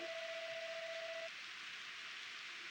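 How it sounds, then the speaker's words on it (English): Rain falls in the farming video game Harvest Moon, a steady soft hiss of rainfall, with a brief sustained tone at the start that cuts off partway through. "I love it when it rains."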